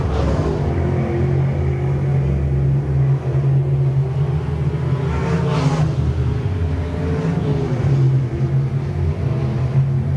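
Hobby stock race cars on a dirt speedway at the Shelby County Speedway heat races make a loud, continuous engine roar from a pack at full throttle, with no pauses and a steady rumble.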